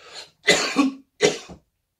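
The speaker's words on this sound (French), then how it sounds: "on évite de tousser comme ça, on tousse" Two sharp coughs close up, the first a harsh double burst and the second shorter, separated by brief silence.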